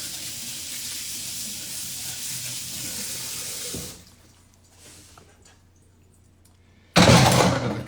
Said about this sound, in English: So now I'm gonna rinse my hands off.